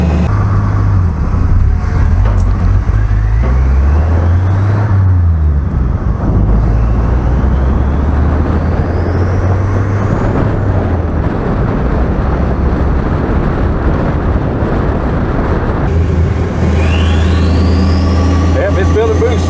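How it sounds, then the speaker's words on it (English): Turbocharged car engine with a carburetor and a richened jet, loud and close, revving up and down in rising and falling sweeps with whistling tones that climb as boost builds. "the turbo should be happier now that we give it more fuel"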